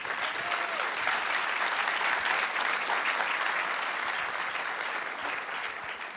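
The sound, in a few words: audience applause at film festival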